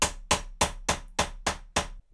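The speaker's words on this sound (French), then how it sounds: "frapper des coups de marteau" Seven sharp hammer blows land in a steady, even rhythm, loud and close, each strike ringing briefly before the next, as workers hammer in a stage play.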